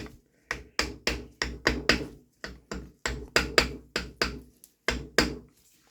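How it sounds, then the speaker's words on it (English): A screwdriver handle knocks a Honda H22 / Accord F23 transmission part into place during gearbox disassembly: about twenty sharp, close taps in uneven clusters, ringing briefly on metal, with no talk. "sometimes you need to tap a little bit. Small tap. Always use the screwdriver handle."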